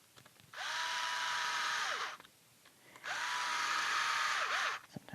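A power drill drives screws into an RC car differential, with its clutch set tighter for larger, tighter screws: two sustained whirring bursts of about 1.5 seconds each, the motor spinning up and winding down at each end, separated by a short pause.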